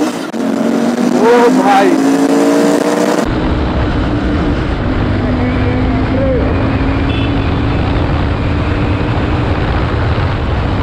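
A Royal Enfield Interceptor twin-cylinder motorcycle pulls away in first gear, its engine note rising steadily under rushing wind noise, while a rider's voice calls out briefly near the start.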